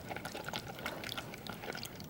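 Borax and water mixture swished in a container, soft sloshing and liquid swirls repeating in quick, irregular strokes, close and quiet.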